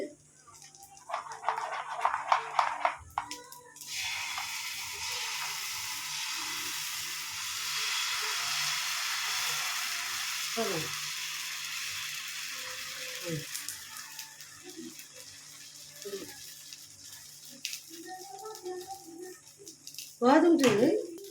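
Ghee sizzling on a ragi dosa in a hot pan, a sustained, fairly loud hiss that swells after a few seconds and slowly fades, with someone talking over it and a clatter at the end.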